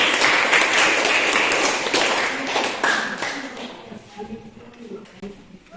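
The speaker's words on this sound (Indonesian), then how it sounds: "tepuk tangan dulu untuk" A class claps together for a presenter during a teaching session, a loud burst of clapping that thins and fades out over the last couple of seconds as quiet voices and murmurs take over.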